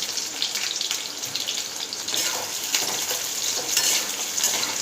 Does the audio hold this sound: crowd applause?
no